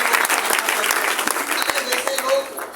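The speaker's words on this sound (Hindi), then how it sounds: "मिस्टर गौतम सर के लिए जोरदार ताली होना चाहिए।" An audience claps loudly in a dense, continuous burst at an indoor gathering, with a voice talking over the applause.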